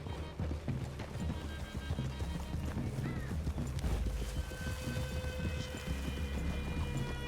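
Horses clip-clop steadily through a clearing in Red Dead Redemption 2, with a neigh breaking in over the continuous hoofbeats and rustle of the game scene.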